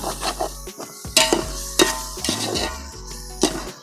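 Masala being stirred in a hot, sizzling pan for black chicken (Kadaknath) biryani, with repeated scraping strokes and clinks of a utensil against the pan over a steady sizzle, close and fairly loud.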